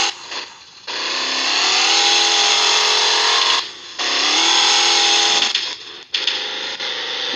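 Cummins diesel truck engine in an offroad driving game revving hard while stuck in mud, long sustained loud roaring bursts separated by brief dips, with a sharp drop near the end before it picks up again.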